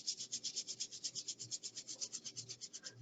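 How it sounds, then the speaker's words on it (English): Palms rubbing briskly together to build heat during a guided relaxation exercise, a steady rhythmic swishing of about seven strokes per second, close and soft, with no talking. "bring the palms together, rub the hands together"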